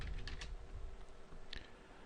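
Typing on a computer keyboard while entering text into a PDF viewer, with a few brief clusters of soft keystroke clicks over a steady low room hum, close and fairly quiet.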